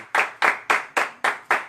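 A church congregation claps joyfully for Jesus during a sermon, six loud, evenly spaced hand claps in quick unison, with no voices.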